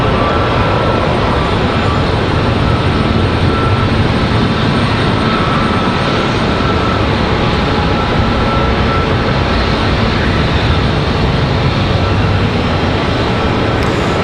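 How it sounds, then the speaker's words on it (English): Boeing 737 jet touching down at Charlotte Douglas airport, a loud, steady broadband roar of engines and rushing air that holds evenly throughout without a break. "737 touching down."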